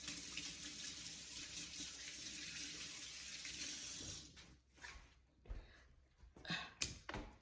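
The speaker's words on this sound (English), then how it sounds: "Let me rinse my hands off real quick." A kitchen tap runs in a steady, full stream for about four seconds while hands are rinsed, then cuts off, leaving scattered splashes, drips and soft knocks.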